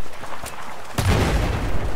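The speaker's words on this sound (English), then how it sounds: "If I have just flashbanged myself." Flashbang grenade detonating in Battlefield 4, a sudden sharp bang midway that leaves a dense ringing wash of noise, preceded by quieter game ambience.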